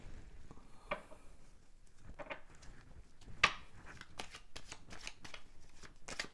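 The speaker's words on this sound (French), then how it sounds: "Je vais tirer d'autres cartes" Tarot cards shuffled and drawn in a quiet room, soft papery riffles and slides with a few sharper snaps as cards are pulled, close and gentle, no talking.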